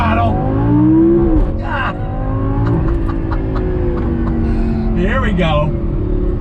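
Lamborghini Gallardo with a naturally aspirated engine accelerating on throttle, a loud rising engine tone sweeping upward through the gears with a brief dip at a shift, heard from inside the car under a man's brief remarks.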